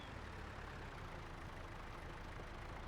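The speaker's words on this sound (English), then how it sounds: "This tractor is struggling with it." A low-powered farm tractor in a farming video game lugs along while dragging a lowered plow through a field, its engine a steady, loud, continuous drone with no letup and no talking.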